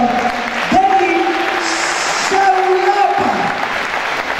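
Audience applause at a New Year's concert for the singers and orchestra, a steady wash of clapping throughout, with a sustained tonal musical note running beneath it.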